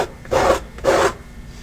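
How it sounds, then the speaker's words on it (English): A putty knife scrapes beeswax across canvas in two short, rasping strokes with brief pauses between them, close and fairly loud. "I'm taking a putty knife and scraping it off and applying it to the places where I think needs a bit more"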